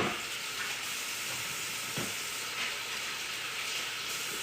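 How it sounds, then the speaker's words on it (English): Running water pours into a kitchen sink as hands are washed after cutting meat for chili, a steady close hiss of flowing tap water that continues throughout with slight shifts in tone. "I'm gonna put this in the sink and give my hands a good wash"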